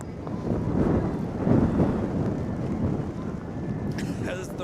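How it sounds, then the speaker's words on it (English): Strong gusting wind and heavy rain at an outdoor high school playoff football game, a continuous loud roar of wind buffeting the microphone with a brief higher rustle near the end. "As the rain just gets worse and worse, and the wind gets worse and worse."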